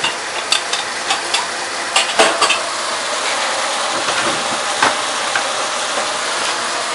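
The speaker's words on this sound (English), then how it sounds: "so just give this a stir" Garlic fries in a pan for mac and cheese, a steady hissing sizzle broken by several sharp scrapes and clicks of a utensil stirring, fairly close and with nobody speaking.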